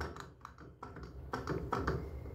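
Loose mechanical clattering and knocking from a warped camshaft with excess play, rocking in the cylinder head, uneven clicks rattling close by for a couple of seconds.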